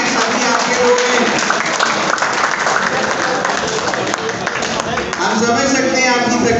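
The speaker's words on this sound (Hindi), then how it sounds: "सबके लिए तालियां बजाएं" A seminar audience at the Garrison Public Library in Multan applauds, a loud, dense, steady wash of many hands clapping that continues throughout with voices mixed in.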